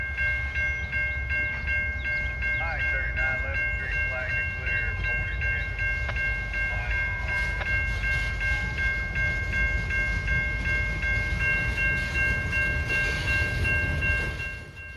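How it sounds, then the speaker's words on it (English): A Norfolk Southern freight train with an ex-Norfolk and Western caboose rolls slowly out of a rail yard in Charlotte with steady rumbling and clanking wheels, and a horn sounds in bursts early on, close and continuous. "NS E39 with an ex-Norfolk and Western caboose begins sliding its way out of O-Yard."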